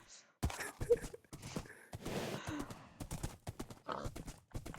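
Minecraft horse hooves clip-clop in uneven bursts alongside a horse's snorts and whinnies, fairly close, as the horse is being hit.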